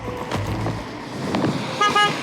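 A car horn honks on a street in Milwaukee, giving a few short, bright toots near the end over steady road and traffic noise.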